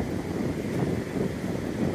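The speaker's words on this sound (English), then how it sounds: "Still kind of windy and cool here." Steady wind buffeting the microphone at Vecaki Beach, a continuous broadband rush with low rumble filling the whole stretch, no voices.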